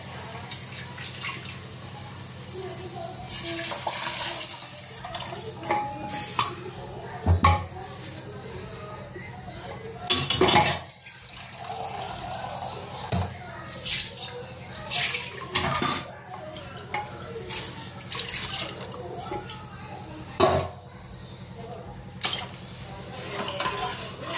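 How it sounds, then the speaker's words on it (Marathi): Water is poured into a pot of tempering for salted brinjal and stirred, producing splashes, sloshing and metallic clinks of utensils, with intermittent speech in between. "त्याच्यामुळे थोडंसं पाणी जास्तीचं घालायचं"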